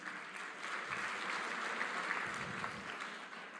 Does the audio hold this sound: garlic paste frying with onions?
no